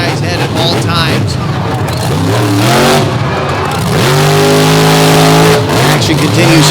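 Corey Snyder's monster truck, the Illuminator, revs loud and hard on a dirt track while attempting slap wheelies. The engine roars continuously, with pitch swinging up and down under an announcer's commentary.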